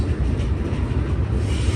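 A Union Pacific freight train hauling tall auto rack cars rolls past at Cajon Summit, a loud, steady low rumble with rattling wheels and no talking.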